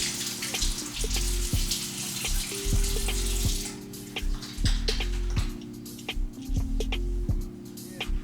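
Water runs steadily from a tap into a sink as a face is splashed and wetted, a continuous close wash with a rhythmic ticking pattern beneath it.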